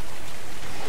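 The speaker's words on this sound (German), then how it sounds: "bei dem Regen hier kann man schön einschlafen" Rain falls steadily in the video game Ark, a dense, even hiss of drops with no pauses across the short stretch.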